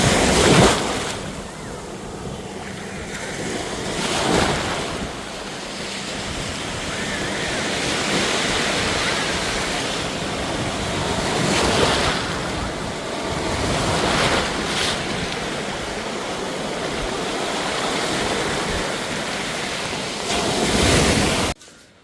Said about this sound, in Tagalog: Maalon dito, medyo malabo ang tubig.